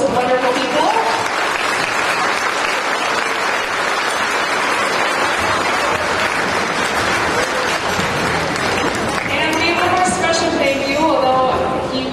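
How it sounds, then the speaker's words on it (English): Loud, sustained applause from a concert audience at a spring school band concert, dense clapping filling the whole stretch, with faint voices mixed in toward the end. "So we get a big round of applause for all of those wonderful people."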